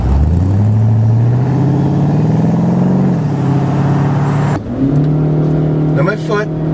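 The small engine of a 2014 Chevy Spark revs hard and climbs steadily in pitch under full throttle, drops briefly as it shifts, then strains upward again, loud and close.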